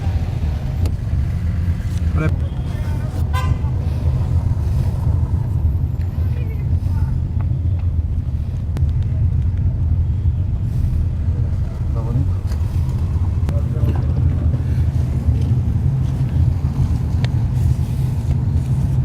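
City street traffic in Jordan: a steady low rumble of passing cars and engines fills the scene continuously, with scattered street noises on top and people talking nearby over it.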